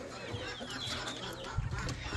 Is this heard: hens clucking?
yes